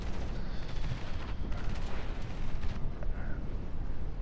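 Rear guns of the battleship HMS Duke of York fire during a naval battle game, a dense, continuous low booming rumble with rolling blasts layered throughout, loud and unbroken.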